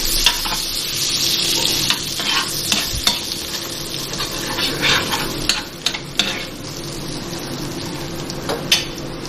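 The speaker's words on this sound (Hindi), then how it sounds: "ये पैन में मैं 2 टेबलस्पून बटर डाल रही हूँ" Butter, two tablespoons, sizzling and frying in a pan while chicken tikka is cooked, a steady close hiss with scattered clinks and stirring scrapes throughout.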